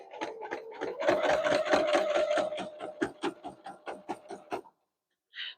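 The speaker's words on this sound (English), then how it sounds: "Try and sew a straight line." Sewing machine stitching binding onto a quilt, a close rapid mechanical rattle that speeds up, then slows into separate stitches and stops, followed by a brief click.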